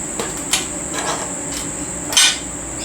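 A metal clamp is set onto a steel square hollow section offcut, giving a few sharp metallic clicks and clanks close by, with a louder clank near the end.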